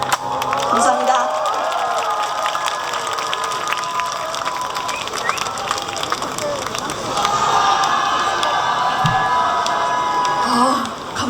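A festival audience cheers and shouts loudly at an outdoor concert, a dense wall of crowd noise that swells toward the end.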